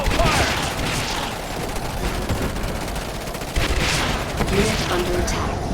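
Dense, continuous gunfire from rifle squads in Command & Conquer 3, a loud sustained rattle of overlapping shots with a few heavier thuds mixed in.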